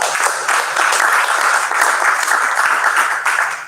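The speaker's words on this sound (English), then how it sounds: "Let's just give them a warm round of applause." A warm round of applause at an unveiling function, steady dense clapping from a gathered group lasting a few seconds before tapering off at the end.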